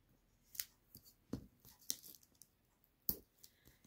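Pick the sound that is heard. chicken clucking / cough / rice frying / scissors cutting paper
scissors cutting paper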